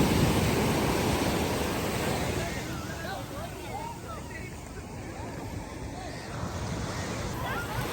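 Surf rolls in continuously at Rushikonda beach in Vizag, a broad wash of waves with wind, steady and fairly close. Distant crowd chatter and a speaking voice sit in the background.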